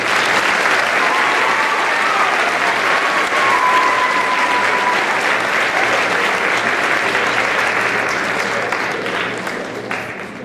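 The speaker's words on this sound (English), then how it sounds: "Let's give her another round of applause." A crowd applauds at the Palmdale Aerospace Academy's 2017 8th grade promotion ceremony. The clapping is loud, dense and continuous and fills the hall, then tapers slightly near the end.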